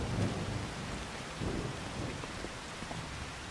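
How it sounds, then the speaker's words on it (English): Steady rain pours in a video game while deep thunder rumbles through it in low swells, a dense, constant wash of sound with no voices. "probably not outside in the rain."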